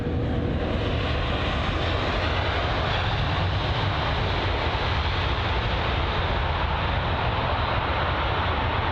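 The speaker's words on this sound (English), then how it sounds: "It's going to be a 737 MAX jet operated by LOT Polish Airlines, arriving from Warsaw" Steady broadband jet roar of a LOT Polish Airlines Boeing 737 MAX arriving at London Heathrow from Warsaw, a loud continuous rumble that holds even throughout without talk.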